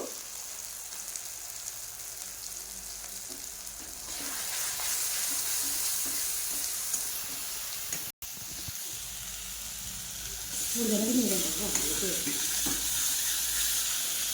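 Turmeric and red chili powder fry in an oily pan while being stirred for a pointed gourd and shrimp curry, a continuous close sizzle with scraping stirs and a brief faint voice near the end.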